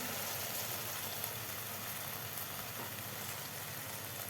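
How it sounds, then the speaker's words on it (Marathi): Fried mushrooms being stirred into a pan of sizzling masala, giving a steady, close, even frying hiss with faint scraping of the spoon throughout. "व्यवस्थित आपल्याला हे मिक्स करून घ्यायचं आहे मसाल्यामध्ये मशरूम"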